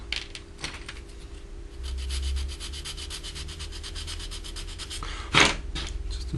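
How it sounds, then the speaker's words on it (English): An edge of a plastic part from a Revell 1/72 Lancaster model kit is sanded by hand, rapid close back-and-forth rasping strokes in a steady rhythm. "we're going to do is sand just a little bit off of that edge"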